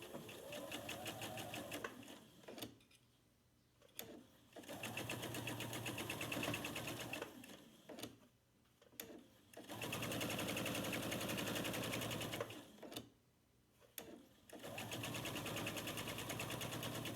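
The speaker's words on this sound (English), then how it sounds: "I'm sewing on my last 2 blocks to my final strip." A sewing machine stitches log cabin quilt block strips together, running in several steady bursts of rapid needle chatter separated by short quiet pauses, close and clear with no talking.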